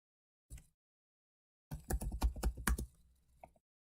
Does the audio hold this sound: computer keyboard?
yes